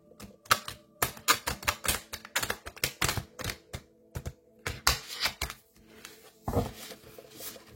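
Matte tarot cards shuffled by hand close up, giving a quick irregular run of crisp snaps, slaps and riffles with brief pauses between bursts, and no talking.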